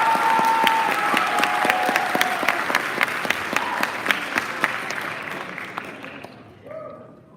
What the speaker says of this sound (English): Give a big round of applause for Katie Olson